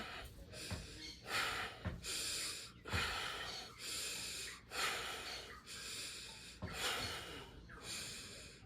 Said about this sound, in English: exhaling, releasing